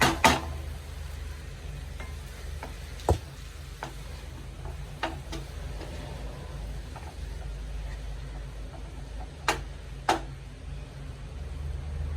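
Fried potatoes for honey chilli potato stirred in a pan with pepper powder, a low steady background hiss broken by sparse sharp clicks and scrapes of a spoon against the pan, close and fairly quiet, with no speech.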